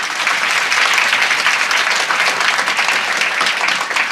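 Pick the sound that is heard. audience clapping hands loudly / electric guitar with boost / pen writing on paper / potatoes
audience clapping hands loudly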